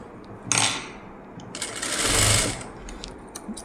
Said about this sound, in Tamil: இங்கேயும் இந்த சைடும் அதே மாதிரி ஒரு ஸ்டிச்சு